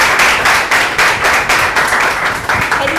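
An audience at a Heritage Institute of Management and Communication orientation class claps loudly and continuously to welcome journalist Akhilesh Anand, dense rhythmic applause with a voice faintly beneath it.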